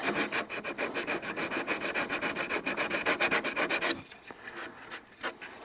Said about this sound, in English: We can just take our sanding bar to it.